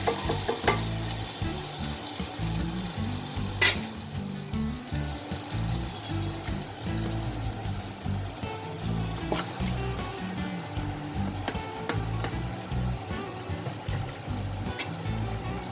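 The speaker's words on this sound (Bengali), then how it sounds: "এরপর আমি আগে থেকে ম্যারিনেট করা মাংসটা দিয়ে দেবো" Marinated meat frying in a spiced masala, with a steady loud sizzle and occasional stirring scrapes throughout, no talking.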